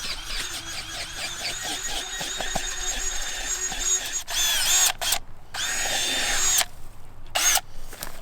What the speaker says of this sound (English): I'm going to take my drill and my auger and I'm going to make myself my dirt hole